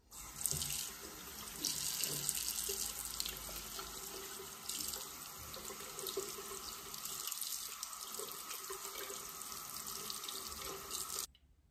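Tap water runs steadily into a sink while makeup brushes are rinsed after soaping, a continuous splashing flow with small fluctuations that cuts off at the end.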